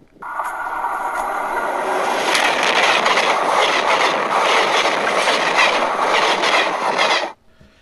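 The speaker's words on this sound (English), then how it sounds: "lets out a loud scream in terror as the train runs him over," Train rolling past at close range: a loud, sustained rumble and rattle of wheels on track with rhythmic clatter, building over a few seconds and then stopping abruptly.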